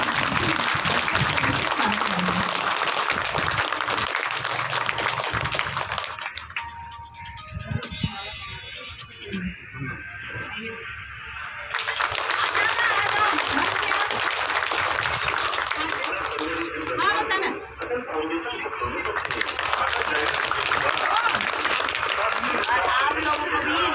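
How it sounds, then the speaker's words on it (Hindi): A crowd at an outdoor sit-in protest in Surajpur district applauds loudly in long dense bursts, with a brief quieter gap of murmuring voices between them. "जोर से ताली बजाइए।"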